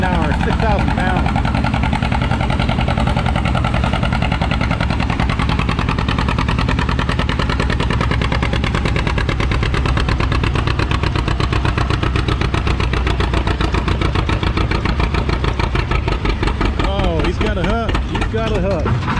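Vintage John Deere G tractor pulling a 6,000-pound sled at a tractor pull in Lynden, Washington, its engine loud and labouring in a steady throbbing drone while an announcer talks over it.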